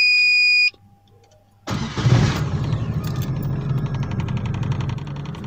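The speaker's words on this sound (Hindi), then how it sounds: "अब टाइम ज़ाया किए बगैर गाड़ी स्टार्ट करते हैं।" A 2019 United Brave base-grade car starts after a short electronic chime and a pause, the engine catching with a loud crank and roar that settles into a steady, close idle.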